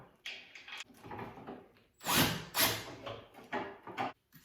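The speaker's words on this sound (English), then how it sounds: "I'm going to hook this cover back into the bottom" The plastic cover of a Proform elliptical trainer being hooked back into its base, giving close clattering scrapes and knocks in uneven bursts, with a louder rattling snap in the middle and no talking.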